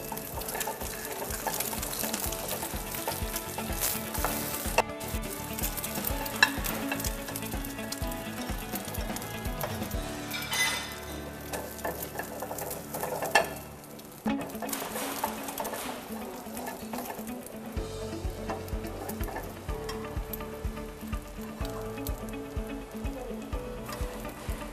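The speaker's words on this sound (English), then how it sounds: "This is a fried egg." Eggs frying in a pan, a continuous crackling sizzle with dense popping and spitting throughout, close and fairly loud, shifting in texture partway through.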